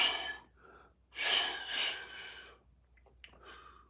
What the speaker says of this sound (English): Exhale all the way.